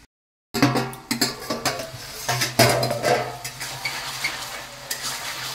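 Hilsa fish heads go into a pot of ash gourd ghonto with a sizzle. A spoon stirs and scrapes in steady clinks and clatters against the pot, with gentle frying hiss underneath.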